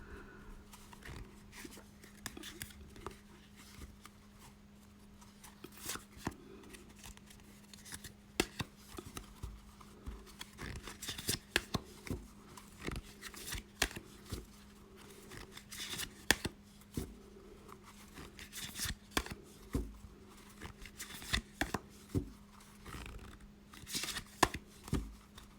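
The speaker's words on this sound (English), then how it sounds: "let's pull some cards" Tarot cards are shuffled and pulled in close, quiet riffles and sharp taps, with irregular clusters of card snaps over a faint steady hum.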